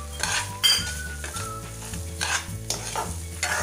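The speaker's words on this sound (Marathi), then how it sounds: "आता आपण यात 1/2 वाटी साखर घेऊया। साखर पूर्णपणे मेल्ट होईपर्यंत हलवायची आहे।" Sugar is stirred in a pan until it melts for apple kheer, with a steady scraping, clinking stir and a soft sizzle running close and continuous throughout, no voices present.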